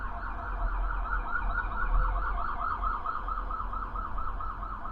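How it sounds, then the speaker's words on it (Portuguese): An emergency vehicle siren wails outside in a steady, repeating up-and-down cycle, moderately loud and somewhat distant, with no talking over it. "Sempre quando eu vou encerrar um vídeo aparece uma sirene."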